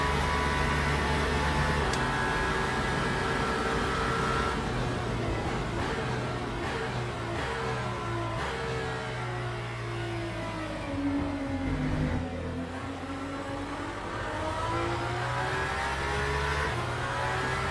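A Cadillac prototype race car in the Le Mans Ultimate racing game drones steadily, its engine note rising and falling through shifts, sustained and fairly loud with no voices.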